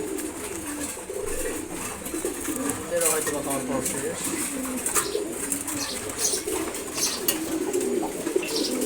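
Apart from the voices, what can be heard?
pigeons cooing after morning feeding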